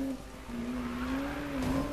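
A car slides in the Need For Speed 2016 video game, with a steady, wavering tire squeal over low engine hum, moderately loud and without talk.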